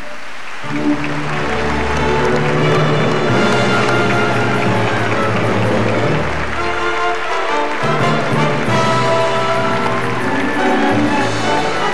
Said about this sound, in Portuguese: Nossos calorosos aplausos para Fernanda Montenegro e Carlos Casagrande.